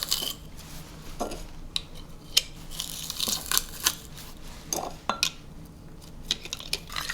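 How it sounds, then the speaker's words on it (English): Garlic cloves squeezed through a metal garlic press in a home kitchen while preparing Chinese-style ribs for an Instant Pot; close, irregular metallic clicks and clacks, with no talking. "I'm just going to put these through my"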